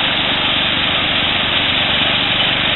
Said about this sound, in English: remove all tall grass, stuff like that with a lawnmower, such as Kevin's doing down here.